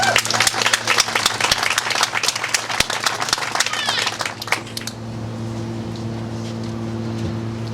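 An audience at a ribbon-cutting ceremony claps steadily and densely for about five seconds, fairly loud and close, then the clapping fades out, leaving only a low electrical hum in the room.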